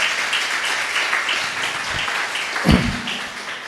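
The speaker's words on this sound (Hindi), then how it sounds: "आपने ताली बजाई, मुझे अच्छा लगा" A church congregation claps together, a dense continuous patter of many hands heard fairly loud, with a brief thump near the end.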